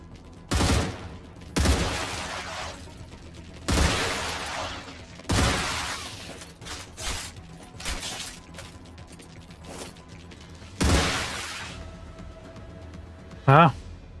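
Gunfire in the video game Star Rupture comes as a string of sharp, loud shots spaced a second or two apart, with a short crackling burst near the end, and a voice talks in between.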